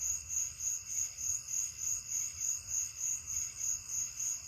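Crickets chirp continuously in a steady pulsing rhythm, a high shrill trill repeating about twice a second against a quiet night background.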